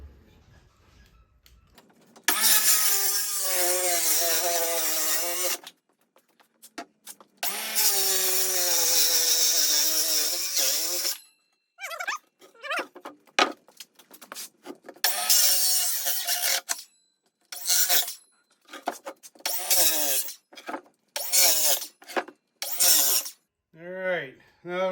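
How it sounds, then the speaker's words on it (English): Circular saw cutting wood for seat bases: a loud, harsh whine in long bursts at first, then a run of short, choppy cuts with brief gaps between them. "we're going to use our circular saw here"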